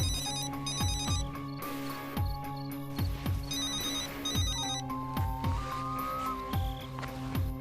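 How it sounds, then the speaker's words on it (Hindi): A telephone rings repeatedly in a drama scene, a steady electronic ringtone pattern repeating in regular bursts over music, with no talking. "काफी देर से ये फोन बज रहा है मगर हमने नहीं उठाया सर"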